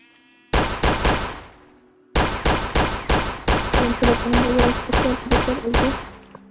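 Rapid gunfire from a gun mod in Minecraft, loud sharp shots in quick bursts: a short volley, a brief pause, then a longer steady string of repeated shots.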